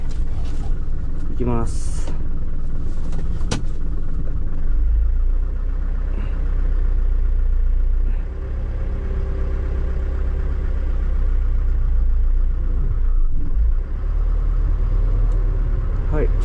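A truck engine idles and rumbles steadily at close range while the vehicle reverses, with brief speech over it.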